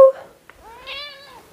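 A pet cat gives one clear, rising-and-falling meow close by, following a short soft chirp and a small thump, in an otherwise quiet room.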